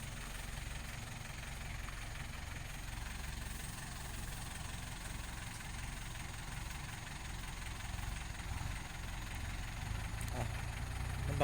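A tractor's steady low engine drone rumbles on continuously with a faint knocking pulse as it pulls a pickup truck, moderately quiet, no voices.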